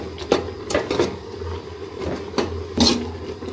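A spoon stirs moringa leaf curry in a pot, giving a few scraping clinks against metal at uneven intervals over a low background hum.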